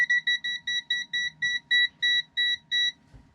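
A propane gas detector inside a Winnebago Travato camper van sounds a loud, regular series of about a dozen sharp electronic beeps close by, then falls silent.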